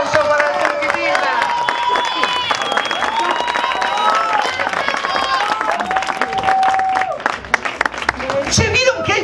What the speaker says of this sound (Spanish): Fuerte el aplauso para el Turquitina!